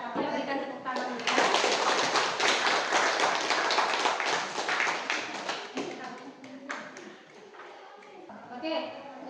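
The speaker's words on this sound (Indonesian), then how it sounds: "Berikan tepuk tangan dulu." Clapping from a classroom audience of students, a dense burst of many hands that swells quickly, holds steady for several seconds, then thins out into scattered claps near the end.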